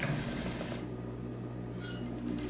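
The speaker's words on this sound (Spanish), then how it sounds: "en todo el contorno del fajín yo realizo esa costura" Sewing machine running steadily at close range, its needle ticking fast while a size 9 needle stitches a seam around the waistband of girls' leggings, mechanical hum constant throughout without speech.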